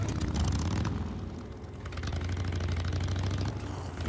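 A motorcycle engine idles in the game Days Gone, a loud, close, steady low chugging rumble that dips briefly before settling back into its even throb.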